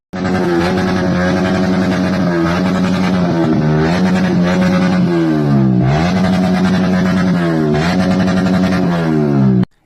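A motorcycle with its silencer pipe cut away revs loudly and continuously, the engine pitch rising and dipping in repeated throttle swells, close and harsh, with no talking.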